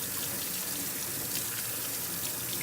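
A makeup brush rinsed under a running tap, a steady close rush of water splashing into a sink with no breaks and no talk.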